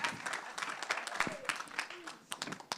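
A summit audience gives a round of applause at an investment conference, uneven clapping with distinct loud individual claps and some voices mixed in.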